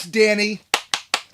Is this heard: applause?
yes